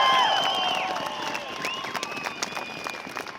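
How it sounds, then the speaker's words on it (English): A crowd at a Gun Appreciation Day rally at the Utah State Capitol claps and cheers, with a few high whistles at the start, the applause gradually thinning out. "Huge applause for UtahGuns.com."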